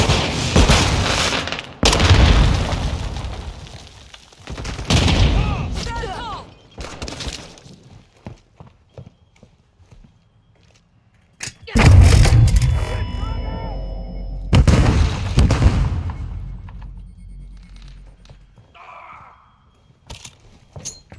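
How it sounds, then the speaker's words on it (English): Grenade explosions and gunfire in a deathmatch of the video game Modern Warfare 2 bring loud booms, shattering debris and bursts of shots in irregular clusters, separated by quieter stretches with faint game voices. "Throwing grenade!"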